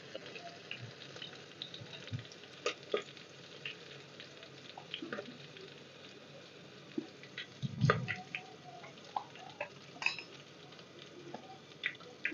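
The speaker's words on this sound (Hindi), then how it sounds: "हरी मिर्ची भुनने देते हैं।" Green chillies frying in a pan: a faint, uneven sizzle with scattered pops and clicks, one louder bump partway through, no voices.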